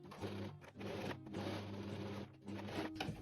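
A sewing machine stitches a fabric seam on a summer top, its motor whirring steadily in bursts with brief pauses between runs, close and fairly quiet.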